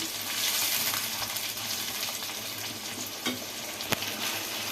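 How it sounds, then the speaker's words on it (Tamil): Ground tomato paste sizzles with onions in a hot pan, a steady close frying hiss with a couple of sharp clinks near the end. "அரைச்சி தக்காளி பேஸ்ட்டு இதில் ஊற்றிக்கலாம் இது நல்லா வதங்கி பச்சை வாசனை போகட்டும்"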